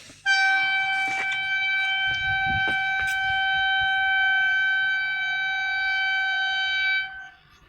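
A train horn sounds as a railway train draws near a village: a loud, steady multi-tone blast holding for about seven seconds, then cutting off, with some faint rumble and clatter underneath.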